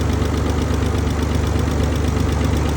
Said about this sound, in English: It does still have a little bit of a lifter tick